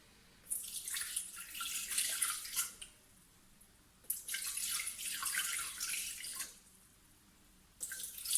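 Water pours in two bursts into a Thermomix bowl to measure 250 grams for bread dough, a close, splashing stream that starts and stops with brief quiet gaps between pours.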